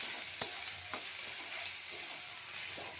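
Spring onion paste with salt, turmeric and green chillies sizzles in a pan, a steady close frying hiss broken by a few soft scrapes of stirring.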